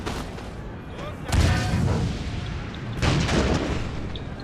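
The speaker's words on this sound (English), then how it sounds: "Why are my men in that firefight?" Musket volleys crackle and boom in a Napoleon Total War firefight on Italian grassland, with dense layered gunfire and two heavier bursts swelling over a constant battle rumble.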